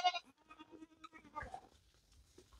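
Goat in winter housing giving a short bleat at the start, followed by quiet scattered shuffling and soft animal sounds, faint and nearby.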